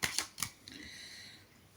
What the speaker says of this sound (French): je suis en train de mélanger pour le point 2